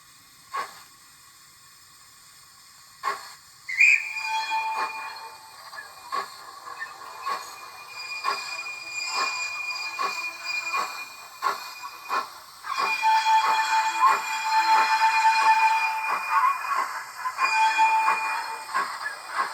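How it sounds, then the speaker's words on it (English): A Dapol Hawthorn Leslie model locomotive with DCC sound chuffs with a steady rhythmic puffing and hiss, while a thin high-pitched flange squeal from the wheels rises and holds, growing louder toward the end. "let's try it with the sound on again, going forwards with the flange squeal."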